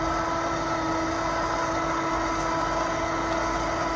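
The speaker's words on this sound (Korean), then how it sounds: "다 버린 후에 다시 제자리로 돌아오는 소리가 조금 다르다는 걸 느끼실 수 있을 거예요" Litter-Robot automatic litter box motor running as the drum returns to position after emptying, a steady continuous mechanical whir with a constant tone and no pauses, close and fairly loud throughout.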